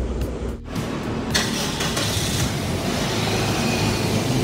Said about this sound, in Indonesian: Ini suara mesin ya, halus,